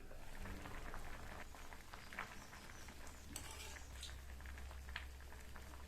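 Cluster beans boil in water in a covered pan, making a soft, steady bubbling and pattering with a low rumble underneath, faint and continuous throughout.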